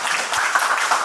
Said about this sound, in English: y'all give these guys a round of applause, man